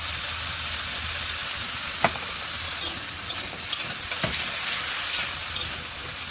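Potatoes fry in a pan with salt and turmeric, giving a steady sizzling hiss with a few brief utensil clinks and stirring scrapes, close and with no talk.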